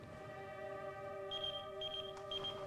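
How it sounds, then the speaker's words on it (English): A pager sounds a series of high electronic beeps in short bursts, fairly clear over a steady low hum of room tone, with no talking during the beeps. "Saved by the beeper."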